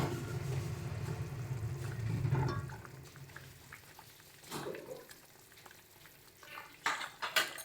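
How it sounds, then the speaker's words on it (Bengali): Pabda fish slid into a pan of curry with tomatoes and stirred gently by hand, a soft bubbling sizzle early on giving way to quieter scrapes and a few sharper clinks of the spoon near the end. "সমস্ত মাছগুলো দিয়ে দিচ্ছি তারপরে হালকা হাতে একটু নাড়াচাড়া করে দেব"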